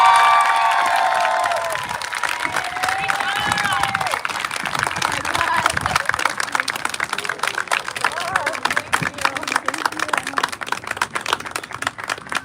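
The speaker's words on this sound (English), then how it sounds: "We deserve to give ourselves a round of applause." Graduation ceremony audience applauding and cheering for the class of 2022, with dense sustained clapping and shouts throughout, while a voice calls out briefly at the start.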